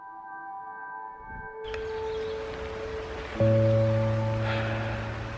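Steady rain on a dark, gloomy day, a continuous soft hiss that carries on throughout beneath sustained tonal hums, with no one speaking.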